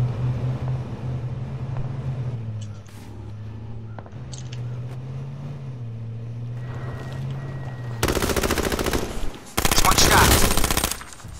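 Light machine gun fire in the battle royale game H1Z1: a low engine-like hum first, then dense, loud sustained bursts of rapid automatic shots near the end, with no speech.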